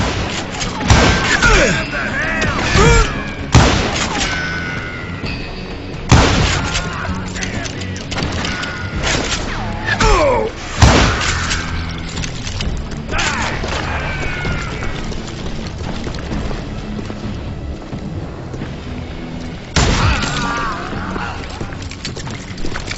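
Gunfire in the Western shooter video game Call of Juarez Gunslinger: sharp shots and bursts ring out at irregular intervals over a busy game soundscape, with a voice speaking in between.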